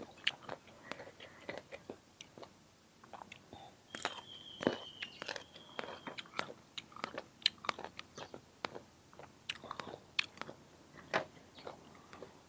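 Pickled mango being bitten and chewed, with close, quiet, crisp crunches and wet mouth clicks repeating irregularly throughout, plus faint rustling.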